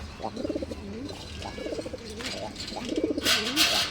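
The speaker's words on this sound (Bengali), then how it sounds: "আমরা আজকে যতগুলো কবুতর দেখাইছি সবই কিন্তু ভাই ভালো ডাকে" A pigeon at a pigeon fair coos close by in three rolling, throaty phrases with short pauses between them, followed by a brief rustle.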